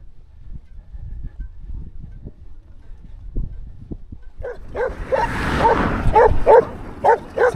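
A dog barks repeatedly while running behind a cyclist on a road near Lake Titicaca, rapid loud barks arriving in the second half over rumbling wind and road noise.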